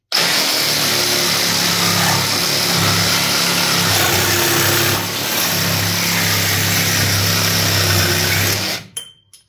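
An Evolution jigsaw cuts steadily for several seconds, a loud, close, continuous buzzing whine with a brief dip in intensity midway before the blade stops and the motor winds down.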